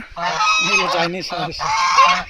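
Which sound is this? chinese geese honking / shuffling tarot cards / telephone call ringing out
chinese geese honking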